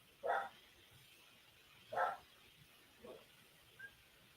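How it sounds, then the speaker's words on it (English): A pit terrier mix dog barks nearby, two loud sharp barks about two seconds apart followed by a softer yip and a faint whine, with no talking. "Sounds like an actual dog."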